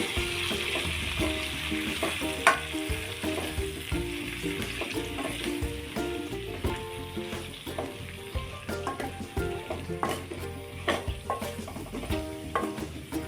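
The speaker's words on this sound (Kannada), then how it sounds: "ಅರಶಿನ ಪುಡಿ ಖಾರದ ಪುಡಿ ಇವಾಗ ಕಲಸಿ ಚೆನ್ನಾಗಿ" Mixed vegetables with turmeric and chili powder being stirred in a pan for vegetable sambar, a continuous sizzle under repeated scraping and clattering strokes of a spoon.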